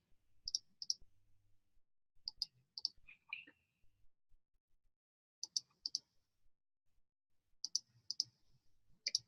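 Crisp computer mouse clicks in quick pairs and short bursts, spaced by quiet pauses, close and clear with nothing else around them.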